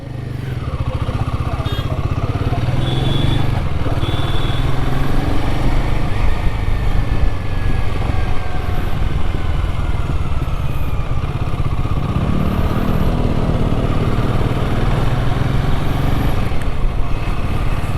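Motorcycles riding out of Manali on a mountain road trip, a loud continuous engine drone with steady throttle and road rumble close to the rider, occasional faint whine of passing traffic.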